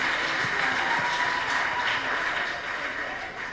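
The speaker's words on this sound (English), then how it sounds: "Let's give her a round of applause." Broad, even clapping from a crowd, holding steady before easing off slightly toward the end.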